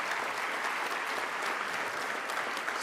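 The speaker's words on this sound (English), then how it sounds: "how about another round of applause for them today" A crowd claps for honorees at the Y Heroes 2019 awards event, a dense, even burst of applause held at steady loudness throughout, with no voices over it.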